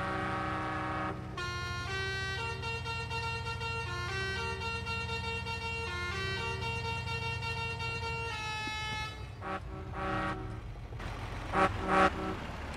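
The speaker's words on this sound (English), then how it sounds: "By the way, that is the truck's horn." A truck's horn honking while logging in the snow, with long sustained tonal blasts in several chord-like steps, followed by a few shorter toots and clunks near the end.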